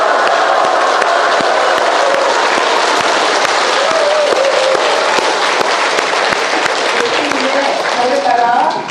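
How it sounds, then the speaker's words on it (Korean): A church audience honoring a Catholic priest at Sanggye-dong parish breaks into loud, sustained cheering and applause, a dense continuous roar of clapping and shouting voices filling the hall from start to finish. "수고해주신 신부님께 함성과 박수 부탁드립니다."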